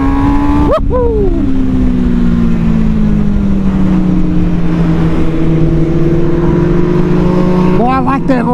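An MV Agusta Brutale 1000 motorcycle accelerates hard out of a corner, its engine note climbing through the revs with a brief gear change near the start and another rise at the end, loud and close with wind roar throughout.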